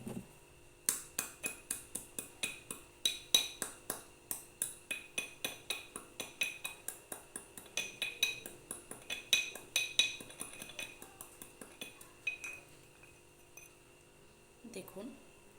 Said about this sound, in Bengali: আমি কার্ডিও অ্যাক্টিভটাকে গুঁড়ো করে নেব।